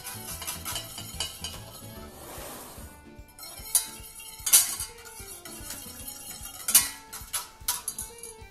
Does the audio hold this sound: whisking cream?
yes